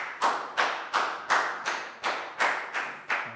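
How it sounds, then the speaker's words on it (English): Students clap together in a Year 4 maths classroom, eight evenly spaced unison claps in a steady rhythm, close and moderately loud, with no voices. "High five and a big round of applause for Preo, guys."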